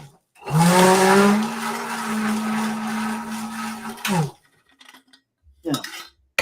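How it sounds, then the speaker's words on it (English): A lime green Hamilton drink mixer runs with a loud, steady motor whine that rises as it spins up, then cuts off after about four seconds, followed by light clinks of glassware. "what we have here is a Hamilton drink mixer in lime green"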